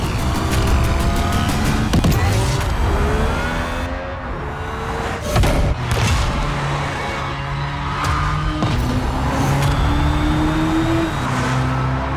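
A Hyundai IONIQ 6 N electric performance car roars loudly with rising engine-like tones, repeated upshifts and revving, plus brief tire noise and passing sounds throughout.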